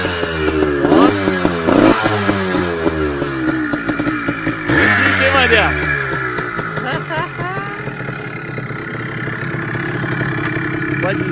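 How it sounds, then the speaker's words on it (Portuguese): Yamaha DT 180 street motorcycle engine running and revving, its pitch swooping up and down through several throttle blips before settling to a steadier idle, close and loud, with someone talking over it. "Botar o Vandeco pra ligar a DT 180."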